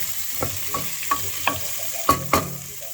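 Onions sizzle in a pan on medium heat for a South Indian sambar, a steady frying hiss broken by about six sharp scraping clicks as a spoon stirs them. The pan is close by and no one talks.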